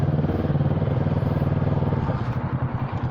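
An ER6n motorcycle engine drones steadily while riding at night, with a loud, close, low pulsing throb that holds even and shifts slightly in pitch.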